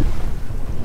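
Heavy low wind gusts battering the microphone on a fishing boat at sea, loud and uneven over a short moment.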